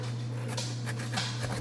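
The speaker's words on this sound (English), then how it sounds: "That would be my dog. She's running around playing." A pet dog whimpers and pants while running around playing, soft squeaky whines coming and going over a steady low hum, fairly close but quiet.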